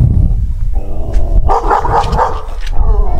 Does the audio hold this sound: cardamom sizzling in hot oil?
no